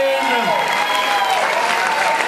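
A crowd at a cycling event applauds riders with disabilities, a loud dense burst of clapping with whistle-like tones and cheering mixed in, over a short stretch.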